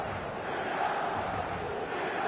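A roaring stadium crowd cheers at an eFootball match before kickoff, a dense, steady wall of voices and chants that holds at an even loudness throughout.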